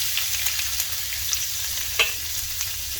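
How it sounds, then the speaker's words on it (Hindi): Crushed garlic frying in hot oil with crackling mustard seeds, a continuous close sizzle with small pops and one brighter spatter partway through. "लहसुन को भी भून देते हैं 1 मिनट के लिए"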